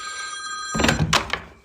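A telephone rings in a comedy sketch about a phone call to the electricity department, with two short bright ring bursts after a quiet start.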